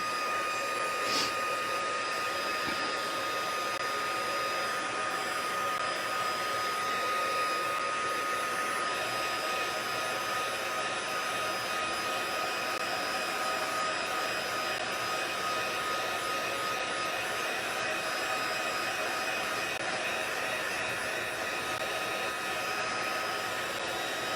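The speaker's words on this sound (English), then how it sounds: "I'm going to go over it with my heat tool" A handheld craft heat tool blows steadily over a painted card, its continuous whirring airflow close and loud for the whole stretch with no talking.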